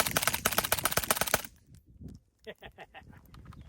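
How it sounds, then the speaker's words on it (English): A PTR 9CT with a HuxWrx Flow Range 36 Ti silencer empties a magazine of subsonic 9mm in a rapid string of loud, suppressed shots, then falls to quieter scattered metallic clinks and rattles. "And now for a mag dump."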